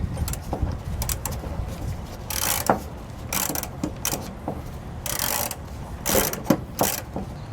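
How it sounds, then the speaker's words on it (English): A wrench works four bolts tight on a PowerGear above-floor slide-out motor on a 2007 Fleetwood RV, giving intermittent close ratcheting clicks and metallic bursts in short spurts. "I'm going to come back with my wrench and tighten these down fully."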